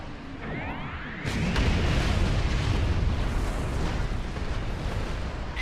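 The Doomsday Weapon in Star Trek Online fires, a sustained roaring barrage of explosions that swells after a brief lead-in and rumbles on heavily to the end, with no talk.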